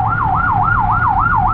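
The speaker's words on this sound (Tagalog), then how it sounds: "Present yung ating ambulansya." An ambulance siren wailing in a rapid repeating up-and-down sweep, loud and close, over a steady low engine rumble.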